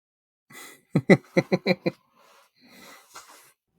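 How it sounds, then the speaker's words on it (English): A person blows their nose in a quick run of five or six sharp, close snorting bursts, followed by quieter sniffs and breathy rustling. "blow my nose again."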